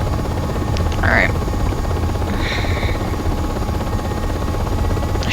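Steady rotor and turbine drone of a simulated UH-60M Black Hawk helicopter hovering near a taxiway in a flight game, continuous and fairly loud, with a few faint higher chirps over it.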